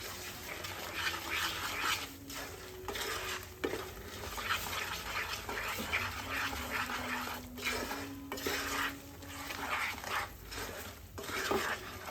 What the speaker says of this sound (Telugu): కలుపుతూనే ఉండాలి.